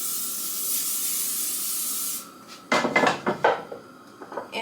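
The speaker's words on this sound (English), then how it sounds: "Once the pan is kind of warmed up, I just spray it with some olive oil." A can sprays olive oil into a warmed pan for pancakes: a steady, close hiss that runs for about two seconds and stops, then a few sharp clinks and clatters of the pan and utensils follow.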